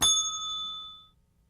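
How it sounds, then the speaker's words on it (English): One crisp ding from a small bell, struck once up close and ringing out cleanly before fading to silence within about a second. "This is a bell."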